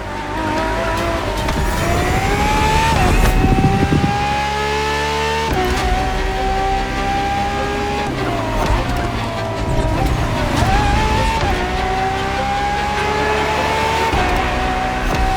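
An extremely powerful Ferrari R&D test racing car in The Crew Motorfest roars at high revs, its engine pitch climbing through repeated gear shifts with brief dips between, loud and close throughout with a faint tire squeal.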